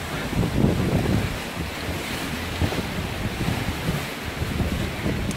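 Rushing, splashing water on the rapids water ride at Alton Towers, a steady loud roar of churning water and wind buffeting the microphone throughout, with no talking.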